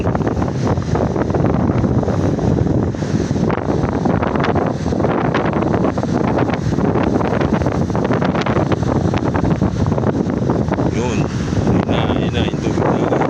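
Sea water and waves at night in Dingalan, Aurora, a loud, continuous roar of surf mixed with heavy wind buffeting the microphone.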